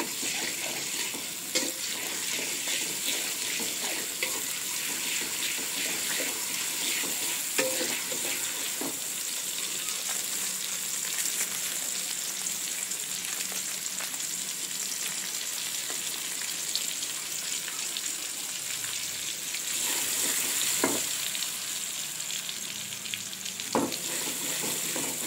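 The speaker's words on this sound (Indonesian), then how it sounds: "Kita tumis bawang putihnya hingga harum." Chopped garlic sautéing in hot oil in a pan, a continuous bright sizzle with scattered clicks and scrapes of stirring over about twenty-five seconds, close up and with no talking.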